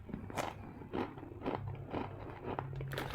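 Crunchy Chipsy Sol black pepper and salt potato chips bitten close up, a series of about six sharp crunches spaced roughly half a second apart, loud and clear with no talking.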